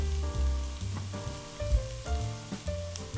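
Garlic sizzles and fries in a pan while being stirred, a soft, steady crackle that runs on its own without talk.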